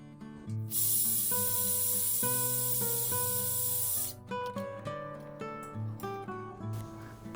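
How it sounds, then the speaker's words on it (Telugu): Curry leaves drop into hot oil for gongura (sorrel leaf) dal, setting off a loud, steady sizzling hiss that lasts a few seconds and then cuts off. Background music plays throughout. "నేను కరివేపాకు ముందే వేయలేదు, ఇప్పుడు వేస్తున్నాను."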